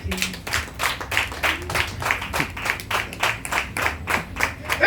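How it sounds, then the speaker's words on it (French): A church congregation claps in a steady, rhythmic beat, with loud, even, repeated hand claps throughout. "Acclame Jésus."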